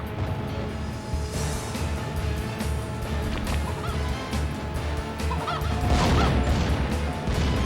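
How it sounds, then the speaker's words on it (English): Chicken in the Muppet RaceMania kart-racing game bouncing off a destructible object, loud squawking and honking clucks with a crash, over busy race noise and engine hum. "the chicken bouncing off of the destructible thing"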